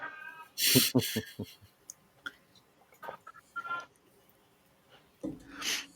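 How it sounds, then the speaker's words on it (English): A house cat meows several times up close in short, separate cries with quiet pauses between them and a little talk nearby. "That's my cat."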